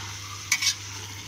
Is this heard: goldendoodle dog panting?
no